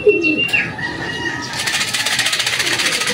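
Young racing pigeons return to the loft after a 94 km training flight, with close wing flaps and clatter, then a rapid rhythmic flutter of birds landing and settling, with no talking.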